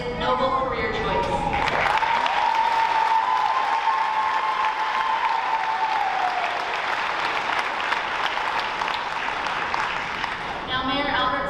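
Sustained applause from a graduation ceremony crowd, dense and steady for about ten seconds, following a voice that speaks briefly at the start and resumes near the end.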